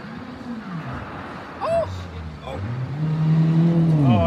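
A rally car on a forest stage approaches and passes by, its engine rising and falling in pitch, with onlookers talking excitedly over it.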